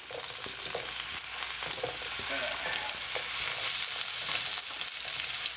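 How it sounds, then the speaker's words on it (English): Onions and carrots frying in meat juices in a pan on the hob for a budget meatloaf, a dense, even hiss of sizzling with faint stirring, steady throughout and without talk. "Now you want to get your onions and your carrots in with this. And fry it up in that juice."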